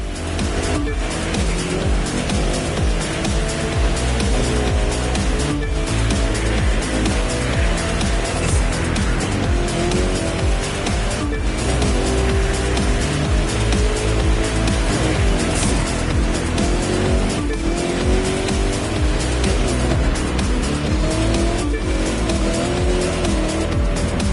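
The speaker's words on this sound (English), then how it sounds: "Those engines are going to make for a loud wake-up call if anyone's sleeping in this resort area today" Race car engines roar continuously in The Crew 2, loud and sustained with shifting pitch, tire squeals and skids cutting in as cars pass through a resort area near Lake Tahoe.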